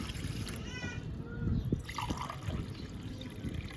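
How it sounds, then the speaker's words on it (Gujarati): Filtered drinking water trickles and splashes into a cooking pot while khaman dhokla is made, a few seconds of uneven pouring with gurgling at a moderate level. "તો 2 ગ્લાસમાં થોડુંક બાકી રહ્યું છે એટલું તો પાણી લઈ લીધું છે ને તપેલીમાં"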